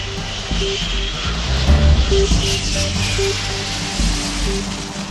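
A jet plane landing on an aircraft carrier roars steadily and loud at close range, a broad engine rush with a faint intermittent tone beneath, and no voices.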